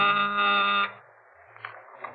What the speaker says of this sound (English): when my door buzzer phoned